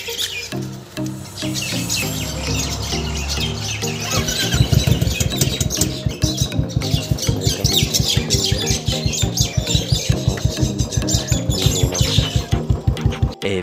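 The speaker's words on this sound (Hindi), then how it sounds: "पहले हम अपनी बाइक को कोल्ड स्टार्ट कर लेते हैं" A motorcycle cold-starts and settles into a loud, close, rhythmic idle, its steady pulsing beats running alone after the first few seconds, with birds chirping in the background.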